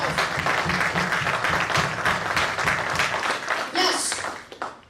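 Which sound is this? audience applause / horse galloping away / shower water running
audience applause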